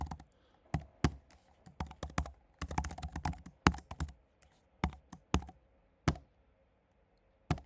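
Typing on a computer keyboard, close-up clusters of crisp key taps in irregular bursts with brief pauses between them, no voice present.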